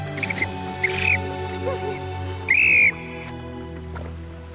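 Short shrill blasts on a lifesaving whistle sound a few times, the last one longest and loudest, over a steady low hum.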